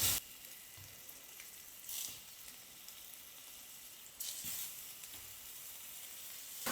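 Egg masala fries gently in a pan over a low flame, giving a soft, continuous sizzle with a few louder bursts of crackle, likely from stirring, all quiet and close with no talking.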